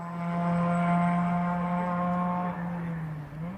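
A Ford Fiesta race car in a Junior Championship qualifying session holds a steady, buzzing engine note that sags and dips toward the end, loud and fairly near, with no voices.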